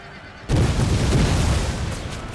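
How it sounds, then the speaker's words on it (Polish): Grenades explode against a fort wall in the video game Total War: Empire, one sudden loud boom opening into a sustained rumbling roar that slowly fades, with no talk. "granaty wybuchły tutaj"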